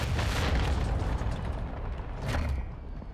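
Flashbang grenade detonating in the video game Warzone (DMZ mode), a loud broad booming blast with a second burst about two seconds later, filling the whole clip with rumble.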